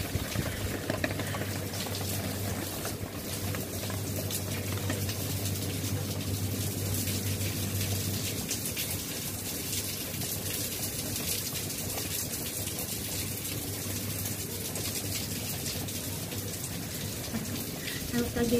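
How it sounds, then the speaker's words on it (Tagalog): Heavy, steady rain from Cyclone Shaheen in Oman pours continuously as a dense, even wash of drops on surfaces, with a low hum running through the first half and no voices. "Kasi lang, wag naman yung ganitong parang bagyo."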